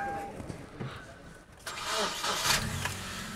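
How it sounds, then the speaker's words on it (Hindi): A 2011 Hyundai Accent with about 600,000 km on it starts up at a used car market: a short crank catches into a steady running engine, fairly close, with faint background chatter. "मैं गाड़ी एक दिन स्टार्ट करके अपने व्यूवर्स को भी दिखा देता हूँ"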